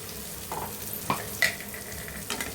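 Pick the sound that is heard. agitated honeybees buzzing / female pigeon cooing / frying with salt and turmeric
frying with salt and turmeric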